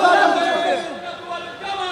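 A crowd chants slogans in unison at a religious gathering, a loud massed roar of voices that swells at the start, eases off, then rises again.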